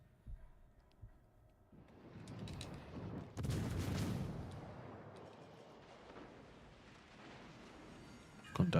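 Naval gunfire in the video game World of Warships: Legends, with rumbling distant salvos swelling into a heavy, booming cannon blast near the middle, then fading into low rumble before a final sharp shot; fairly quiet overall.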